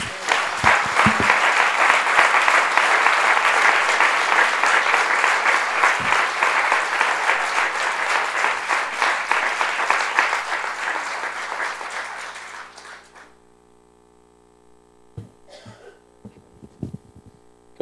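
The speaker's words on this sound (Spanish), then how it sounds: "¿Le podemos dar un aplauso al Señor?" A church congregation applauds loudly and steadily for about twelve seconds, then the clapping cuts off into near silence with a few scattered faint knocks and rustles.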